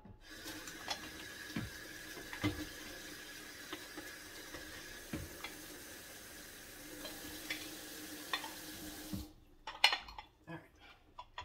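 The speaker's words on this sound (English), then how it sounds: "Oh, stop dripping." A kitchen tap drips into a sink during dishwashing, with faint, scattered drops and soft clinks over a quiet running-water hiss that grows busier near the end.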